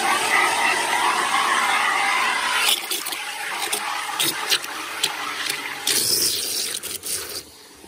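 Water gushes from a hose or tap into a bucket to foam up wash and wax car shampoo, a loud continuous hiss and splash that thins and turns more broken and sloshing toward the end.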